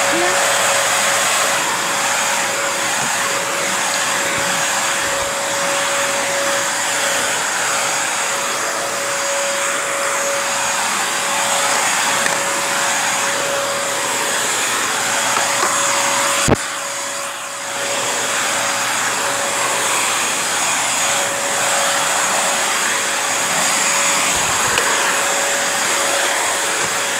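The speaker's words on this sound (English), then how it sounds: "Look at this vacuum." A Bissell vacuum cleaner runs steadily at close range, a loud continuous whine with a strong fixed tone, briefly dipping once partway through before resuming.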